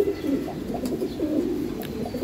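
Giribaz racing pigeons coo loudly and near in a loft, overlapping throaty calls pulsing one after another with no voices over them.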